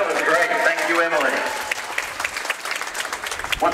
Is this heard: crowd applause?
yes